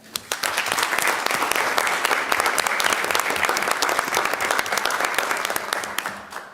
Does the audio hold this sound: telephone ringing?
no